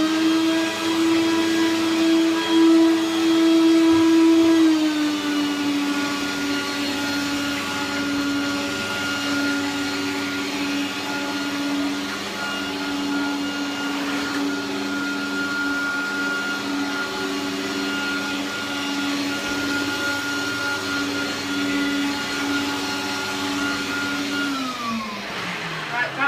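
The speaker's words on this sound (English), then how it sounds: "The hoover has failed, it's spitting out dirt behind it." A Hoover Turbopower 1000 vacuum cleaner in poor condition runs with a steady, loud motor whine that drops slightly in pitch about five seconds in and again near the end, continuous and close.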